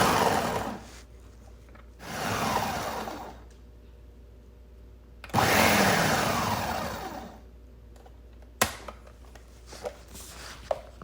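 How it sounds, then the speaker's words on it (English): A food processor pulses cauliflower into rice in repeated bursts of whirring and chopping, each a second or two long and separated by short pauses, with a few sharp clicks toward the end. "Once you have the cauliflower cut and placed in the food processor, you're going to pulse a few times just to get the rice consistency"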